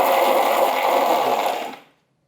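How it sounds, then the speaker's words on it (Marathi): A mixer grinder grinding dry chillies and peanuts without water whirs loudly and steadily with a coarse grinding rattle, then winds down and stops near the end. "आधी हे असंच मिक्सरला फिरवूया"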